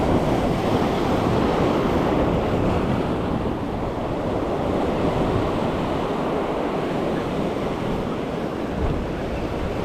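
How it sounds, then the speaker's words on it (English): Ocean swells and surf rolling in at night while fishing for menpachi, a steady, dense wash of breaking waves with wind noise on the microphone throughout, no voices. "Some swells coming in right now."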